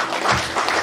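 A church congregation applauds, a dense wash of many clapping hands that fills the room for under a second. No voices rise above it.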